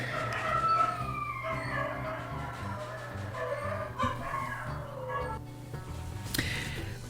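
Dogs bark and yip in the background, overlapping and fairly distant, amid other noise.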